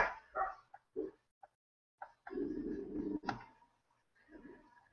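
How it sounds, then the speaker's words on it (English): A dog close by makes a string of short low growls and grumbling vocal bursts, broken by brief pauses and a few sharper yips, in a quiet room. "That's my dog growling, not my stomach growling."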